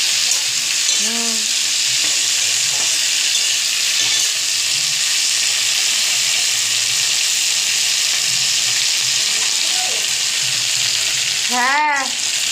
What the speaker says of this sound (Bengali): ভেন্ডিটা ভাজা হয়ে গেলে তুলে তার মধ্যে শুকনো লঙ্কা কালো জিরে ফোড়ন দিয়ে আলুটাকে ভাজবো।